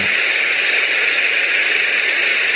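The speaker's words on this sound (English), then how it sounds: "White noise is just a selection of all sounds in the audio spectrum" Steady, loud hiss of white noise from a sleep sound machine, smooth and unchanging throughout, with no other sounds.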